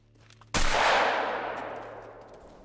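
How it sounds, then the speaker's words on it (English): A single loud shotgun slug blast in theHunter: Call of the Wild, fired at a bison herd, cracks sharply after a quiet moment and rolls off in a long echoing tail. "I'm just going to keep shooting at them. I'm using the slugs in the shotgun."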